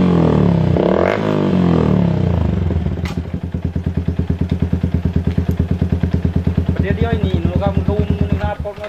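A motorcycle engine runs close by, starting with a rough rev and then settling into a steady, fast, even chugging that carries through to the end, with some clatter in the background.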